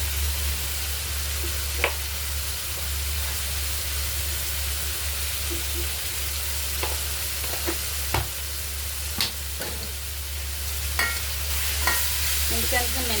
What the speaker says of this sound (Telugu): ఇప్పుడు టమాటా వేగేటప్పుడే కొంచెం పసుపు, ఉప్పు, కారం అన్నీ వేసుకుందాం.